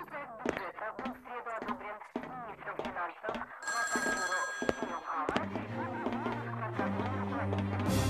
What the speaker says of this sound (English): Where did the phone go off?